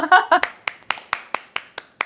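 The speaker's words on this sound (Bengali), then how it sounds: "এটা ভাই সবাই হাতালি দিয়েছে আমাদের ফ্লোরে যারা" Studio audience clapping on a show floor, heard as a brief voice followed by a steady run of about eight crisp, evenly spaced hand claps, close and clear.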